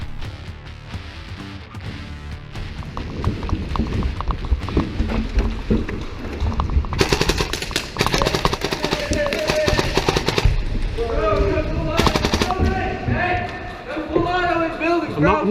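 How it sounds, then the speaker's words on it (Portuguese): An airsoft gun firing full auto, rapid continuous bursts of loud rattling shots that come in long runs, mixed with voices talking nearby. "No modo full, quer dizer, totalmente automático, são os disparos contínuos."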